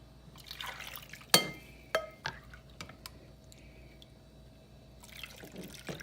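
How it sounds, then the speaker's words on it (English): Carrot juice and water poured over a corned beef brisket in a roasting pan, a few soft splashes and drips close by, with scattered clinks and a quiet trickle between them. "Put a little, this water on here, this juice from the carrots, from"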